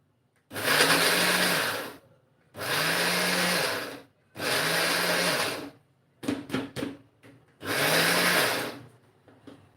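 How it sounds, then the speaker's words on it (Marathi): A mixer grinder blitzing peanuts and jaggery for ladoos whirs loudly in four long bursts of about one and a half seconds each, with a cluster of short pulses between the third and fourth, up close with no talking. "हे देखील आपण छान मिक्सरला फिरवून घेऊयात"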